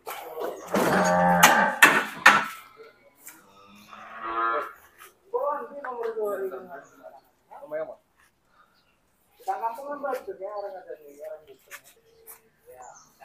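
Cattle being weighed alive bellow in loud, drawn-out moos, several calls in sequence with pauses between, while people talk nearby.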